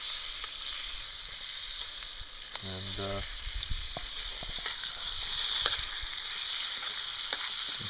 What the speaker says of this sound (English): You saw how fast that stuff started to sizzle.